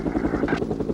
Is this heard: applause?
no